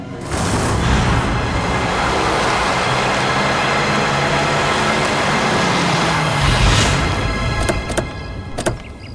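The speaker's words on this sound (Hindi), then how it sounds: "इतना फास्ट गाड़ी चलाता है" A car driven fast, with a loud continuous roar of engine and wind rushing past, steady throughout before thinning near the end, with a few sharp knocks at the close.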